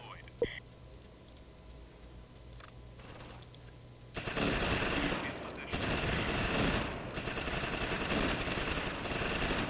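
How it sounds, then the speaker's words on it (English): Heavy machine gun and rifle fire in a Close Combat WWII battle in Normandy, Allied airborne troops against Fallschirmjäger, starting as a faint quiet backdrop and then breaking into a loud, sustained, dense barrage of rapid shots. "Man, we're taking a ton of fire."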